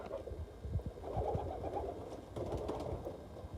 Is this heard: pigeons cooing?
yes